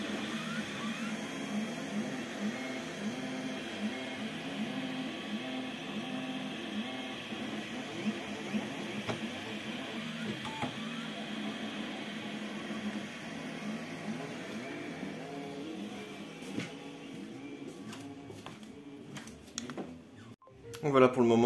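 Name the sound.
3D printer printing a small plastic support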